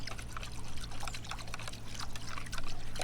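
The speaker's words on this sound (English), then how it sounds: "with my stick I can mix the water," Water swirled and stirred with a stick while mixing in potassium permanganate for orchid replanting, giving soft, continuous sloshing and trickling close up, with no talk.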